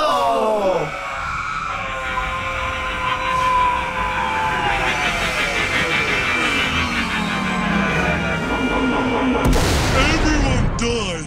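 A Bob-omb in a Mario vs Sonic video game explodes after a long descending whistle and swirling electronic tones, with a sharp loud burst near the end of the clip.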